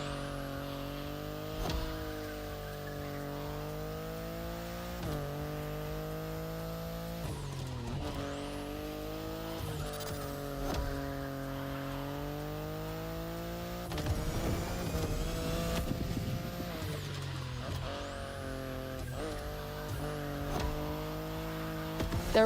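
BMW i8 sports car driving in The Crew Motorfest, its engine drone steady and upfront with repeated rising revs and gear shifts, a rougher burst of tire and road noise in the middle, no voices.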